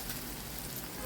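Turmeric and vegetables sautéing in hot oil for a Konkan-style jackfruit (fanas) bhaji give a steady, close sizzle and crackle that fills the whole short moment without a break.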